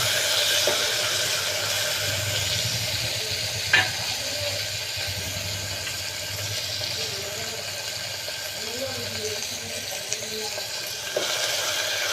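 Carrots, beans and tomatoes frying in a home kitchen pan give a steady, even sizzle with faint stirring and scraping clicks, plus occasional brief knocks, alone with no talk.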